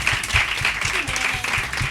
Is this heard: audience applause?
yes